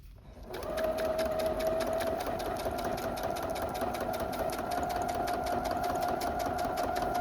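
A sewing machine stitches pockets on a diagonal for commissioned journals, running steadily and close with a rapid, even needle rhythm after a brief start, with no pauses.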